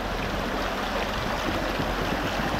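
A rain-swollen, murky river in Magdalena, Laguna rushes in a steady, close, full-bodied wash of flowing water with no voices.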